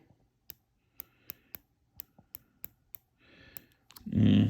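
A series of about ten sharp, evenly spaced mechanical clicks from a Primary Arms 3x rifle scope turret, close and distinct, followed by a brief rustle and a louder handling noise.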